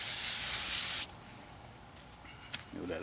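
A second coat of cleaner sprayed onto a car wheel, one steady close hissing burst of about a second, followed by quiet and a few faint handling sounds.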